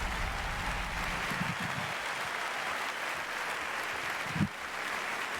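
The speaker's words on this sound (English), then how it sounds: "Another round of applause," Live audience applause at Bethesda's E3 2019 presentation, a steady broadband wash of clapping filling the hall, moderately loud and even throughout with a brief low bump near the end.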